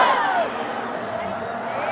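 A large crowd roars a religious slogan in unison at an Eid Milad procession in Bhiwandi, a loud, diffuse shout that swells at once and then holds steady.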